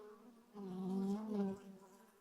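Honey bees buzz inside a weak, dwindling hive that may be queenless, a close droning hum that swells for about a second and then fades, with no talking.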